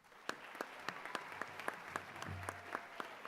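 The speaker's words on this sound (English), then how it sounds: "Give a round of applause to Tessa Trapp." An audience at a senior honors night claps in steady, fairly sparse applause lasting a few seconds, individual claps distinct and close, with a faint murmur underneath.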